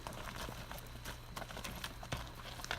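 Hooves of a working ranch horse clip-clop at a steady walk through sagebrush outside Elko, Nevada, a close, even rhythm of soft hoof falls over low outdoor background noise.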